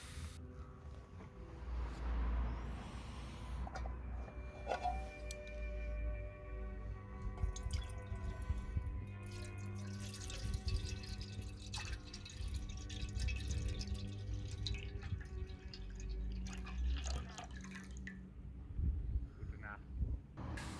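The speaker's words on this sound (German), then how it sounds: "Wir zünden den Trangia, stellen einen Topf hinein und befüllen diesen mit Wasser." Water poured into a pot sitting on a Trangia camping stove outdoors, heard as faint dripping and trickling under wind noise and low rumble, with a voice speaking at times.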